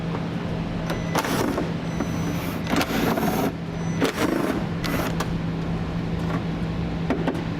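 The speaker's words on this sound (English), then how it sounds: "to remove these 3 bolts, I'm going to be using an 8mm socket" An 8mm socket works loose the splash shield bolts under a 2013 BMW 3 Series, making a string of close ratcheting and metallic clicks over a steady low hum in a garage.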